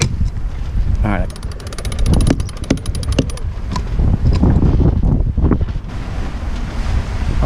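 Wind gusts across a sailboat at sea on passage to Belize, buffeting the microphone with steady rushing noise and water wash, while people talk briefly in the background.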